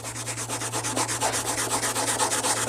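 Sandpaper rubs by hand against a chrome truck side step in quick, even back-and-forth strokes, a steady rhythmic scratching over a low constant hum, with no talking.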